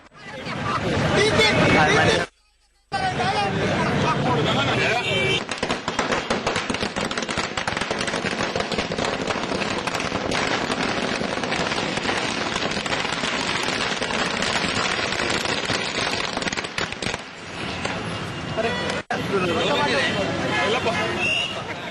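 Firecrackers and fireworks burst through a loud, dense crowd hubbub at a BJP victory rally, crackling almost continuously for the whole stretch with only brief breaks.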